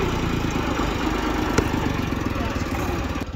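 Tractor engine running steadily while being hooked up to pull out a tree stump with snatch blocks and cables; a loud, continuous low engine drone fills the whole stretch with no break.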